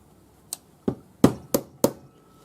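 A rawhide hammer strikes a metal ring on a steel bench plate, five sharp taps at irregular intervals, close and clear with quiet between blows.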